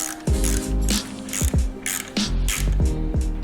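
A ratchet on a screw during an E-Ride Pro long seat kit install gives loud, rhythmic clicking strokes, roughly seven evenly spaced pulls, with no talking.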